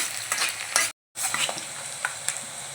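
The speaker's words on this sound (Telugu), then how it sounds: "ఇప్పుడు ఉల్లిపాయ వేసుకున్నాం పచ్చిమిర్చి వేస్తున్నాను ఇప్పుడు ఒకసారి తిప్పుదాము" Onions and green chillies fry in a pan with a steady sizzle as a spoon stirs them in a run of short scrapes, broken by a brief moment of total silence, close and without talk.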